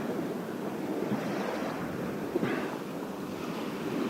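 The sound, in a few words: waves from passing motorboats on river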